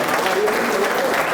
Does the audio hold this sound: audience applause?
yes